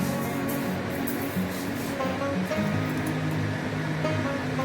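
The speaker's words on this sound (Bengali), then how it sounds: "মুগ ডালটা আমি হালকা লাল করে ভাজবো।" Moong dal sizzling in a kadai while it is fried until lightly reddened, a continuous dense hiss at close range with a faint musical tone in the background.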